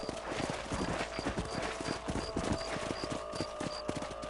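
Horse hooves clip-clop steadily in the Western video game Red Dead Redemption, a dense, continuous trotting rhythm heard up close with no talk over it.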